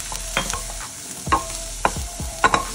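Half a head of washed cauliflower and a handful of peas sizzle steadily in a hot pan while a spoon scrapes and stirs them in several short strokes.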